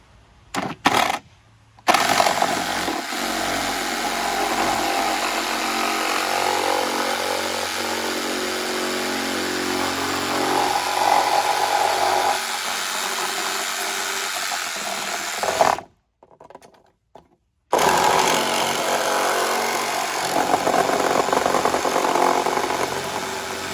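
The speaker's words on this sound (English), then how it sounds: "I'm gonna use this reciprocating saw with a metal blade and just go nice and easy" Reciprocating saw fitted with a metal blade cutting through a vinyl gutter, a loud continuous buzzing rasp that runs for long stretches, briefly stops and then restarts, with no talk over it.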